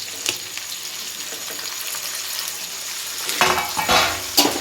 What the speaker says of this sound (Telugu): ఇప్పుడైతే మిగతా ఈ టమాటాలు వేసుకుందాం